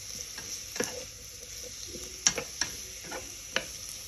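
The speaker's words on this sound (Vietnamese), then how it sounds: "Mình cho cải vào, mình trộn qua trộn lại." Pieces of white radish are stirred and tossed in hot oil in a pan, giving a soft continuous sizzle broken by a few sharp utensil scrapes and taps, close and fairly quiet, with no voices.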